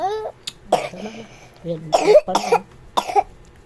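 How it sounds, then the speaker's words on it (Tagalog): A baby coughs several times in short bursts amid crying and fussing, close to the microphone. "May ubo na ang baby."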